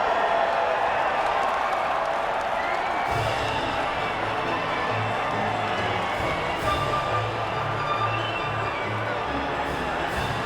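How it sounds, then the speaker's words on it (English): Crowd noise from the podium celebration at the Abu Dhabi Grand Prix in the F1 2019 racing game, a steady broad wash of cheering and applause with faint low tones entering partway through. "the reaction from the crowd must be incredibly uplifting for them"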